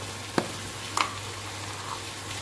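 Vegetables sizzling in oil as they are sautéed for khichuri, a steady close frying hiss broken by a couple of sharp stirring clicks.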